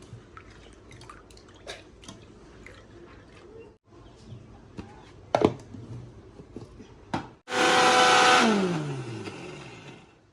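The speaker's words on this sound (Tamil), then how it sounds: "இப்போ வந்து நாங்கள் இந்த கடலை பருப்பை வந்து நல்லா அரைச்சி எடுத்துட்டோம்" Scattered clicks and taps give way to a mixer grinder roaring loudly as it grinds soaked chana dal into paste, the motor note dropping over its last few seconds.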